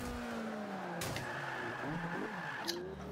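Race car accelerating at Silverstone in Forza Motorsport 5, a steady engine whine climbing through gears with a couple of sharp clunks and a brief squeal, moderately loud with no talk.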